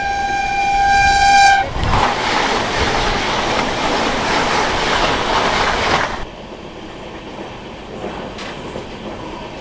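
A Tirupati-Puri Express with a new LHB rake arrives at Tenali Junction: a long, loud horn blast, then a heavy rolling rumble and clatter of coaches that drops to a quieter hum.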